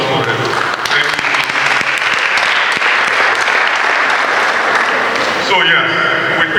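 Sustained audience applause fills a financial literacy presentation by a bank at a college, a dense steady clatter of many hands that continues at full strength before tapering near the end.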